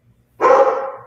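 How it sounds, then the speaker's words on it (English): A pet dog gives a single loud, close bark indoors, one sharp burst that trails off quickly. "he's barking at my grandson"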